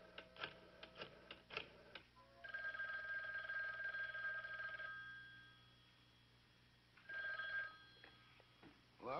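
A telephone in a quiet house rings in a long, steady electric bell tone, stops, and then gives a second shorter ring, with a few faint knocks and handling sounds before it.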